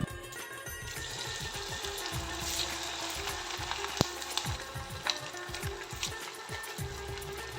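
Semolina puris crackle and sizzle steadily in hot oil, a dense close bubbling with occasional sharper pops and stirring sounds, no voices.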